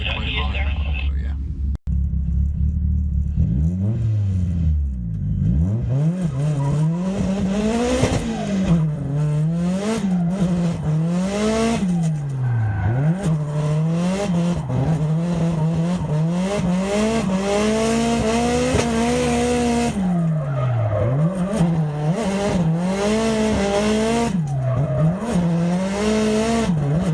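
Drift cars tear around Three Sisters Circuit on a qualifying run. Engines rise and fall in repeated revving swells, with tyres squealing and skidding through the corners, loud and continuous for the whole stretch.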